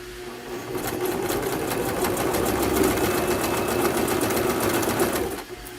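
A sewing machine stitches fabric at a fast, even, rattling rhythm for about five seconds. It starts and stops cleanly, with no voices.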